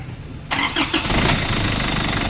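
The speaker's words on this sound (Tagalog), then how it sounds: "okay engine start" An Isuzu D-Max with a 4HJ1 diesel engine cranks briefly after a quiet moment, catches, and settles into a loud, steady idle that carries on to the end.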